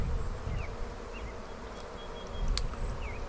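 Dense buzzing of many honey bees close by in a hive, a continuous droning hum with occasional individual bees whining past.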